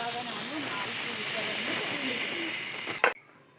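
Pressure cooker whistle releasing a loud, steady hiss of steam while goat head cooks, continuous for about three seconds before cutting off abruptly into near silence.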